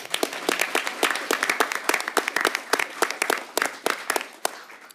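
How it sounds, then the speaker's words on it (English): Audience applause for student debaters at a high school final debate event, steady clapping from many hands sustained through five seconds, fairly close and alone without talk. "Let's give these students a round of applause."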